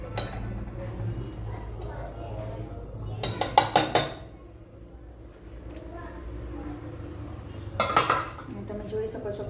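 Drained cooked rice is tipped into a large metal pot for palak paneer, giving two clusters of clanging metal-on-metal knocks over a steady hum of kitchen background.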